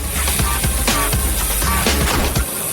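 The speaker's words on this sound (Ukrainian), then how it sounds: "візьму балончики з фарбою" Spray paint cans sprayed while painting a toy dollhouse: a loud, steady hiss runs throughout, with a series of sharp rattling clicks at irregular intervals and no voices.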